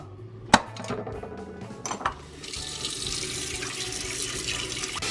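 A few clinks of dishes and utensils, then cold tap water gushes steadily from a faucet over cooked saltfish in a kitchen sink, close and continuous.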